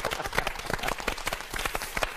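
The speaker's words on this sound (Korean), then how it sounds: "박수 쳐." Studio audience clapping in a Korean live TV broadcast lecture, a dense patter of many hands, fairly close and steady throughout, with faint voices mixed underneath.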